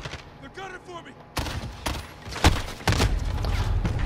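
FAMAS bursts in Call of Duty: Modern Warfare ring out as sharp, loud gunfire cracks, several clustered shots following a quieter stretch at the start, with gameplay noise continuing underneath.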